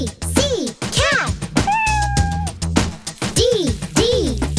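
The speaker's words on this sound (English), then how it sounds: "C, C, cat." A cat meows several times in close succession, each meow a clear, rising-and-falling call. The calls are near and fairly loud, with brief pauses between them.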